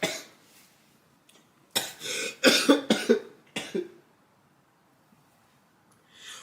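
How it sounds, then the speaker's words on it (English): A person coughs several times in a quick cluster, close and fairly loud, with quiet pauses before and after. "I don't mean to cough without covering my mouth."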